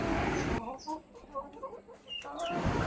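Native hens kept in a home coop cluck in short, repeated bursts at close range, with some louder calls mixed in over a soft background hum.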